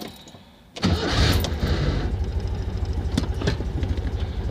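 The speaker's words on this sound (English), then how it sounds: "Sounds like the nose bearing's a bit dry on that starter motor" After a quiet moment a Citroen 2CV starter motor with a dry nose bearing whirs and the engine catches, settling into a close, steady, rhythmic idle.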